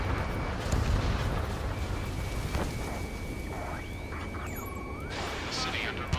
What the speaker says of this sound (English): Gunfire and a roar of jets echoing through the streets.